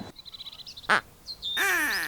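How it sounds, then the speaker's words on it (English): Ducks near a beaver pond give several short nasal quacks, close and fairly loud, over a faint outdoor background with chirping birds, ending in a longer harsh run of calls. "Plus the ducks seem to really like it."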